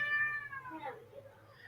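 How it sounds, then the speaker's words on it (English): A cat meows in a long, drawn-out falling cry, close and fairly quiet, sounding upset and wanting to go outside. "Got Rainbow Kitty"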